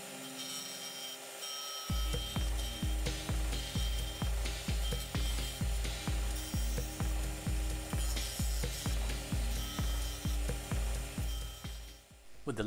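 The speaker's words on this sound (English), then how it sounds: "Complete the profile on the disc sander." A disc sander grinds a wooden part for a model excavator, a steady loud whir broken by a dozen rhythmic pulses as the piece is pressed and eased against the disc, close up and alone.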